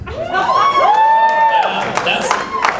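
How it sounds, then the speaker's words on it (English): A comedy club crowd in Dallas erupts with whoops, shouts and cheering mixed with clapping, loud and close, with voices rising and falling through the burst. "Honestly, that deserved more applause"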